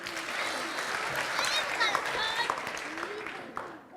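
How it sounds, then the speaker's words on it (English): An audience applauds children at an Islamic kids' program, a steady moderate round of clapping with crowd murmur and some voices mixed in throughout. "Round of applause for our kids."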